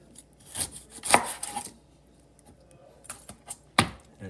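Knife chopping through a pineapple on a cutting board, with several sharp, close cuts in quick bursts and quiet gaps between them.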